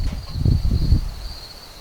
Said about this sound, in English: Of course, right now I'm hearing there's some bugs.